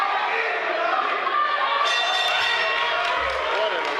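Arena crowd at a TOC 26 mixed martial arts fight roars and cheers continuously, a dense, loud wall of voices with shouts rising in the second half.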